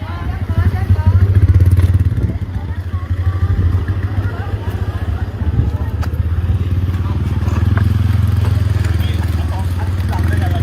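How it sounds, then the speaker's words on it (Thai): A motorcycle is moved by hand, with low engine or rolling rumble and scattered clatter throughout, while people talk nearby. "เดี๋ยวย้ายมอไซค์ก่อน"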